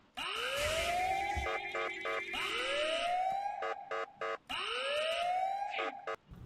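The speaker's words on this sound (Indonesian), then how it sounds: "Lalu dia akan mengeluarkan bunyi yang sangat keras seperti alarm, jadi memanggil Rod supaya datang menemui kita." A mini Rod in a video game blares a loud electronic alarm, a rising siren-like sweep repeated three times with stuttering pulsed beeps between each wail.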